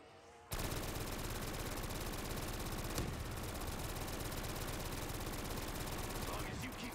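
Dense, continuous automatic gunfire from Black Ops 3 Zombies plays at full volume from the half-second mark to the end, a steady rattle of rapid shots with no pauses and no voices.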